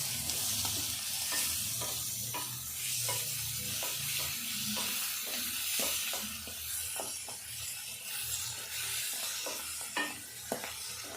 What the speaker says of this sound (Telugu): ఇప్పుడు ఈ మెంతి కూర వేసుకోవాలి. ఇదంతా కూడా నూనెలో మంచిగా గోలాలి.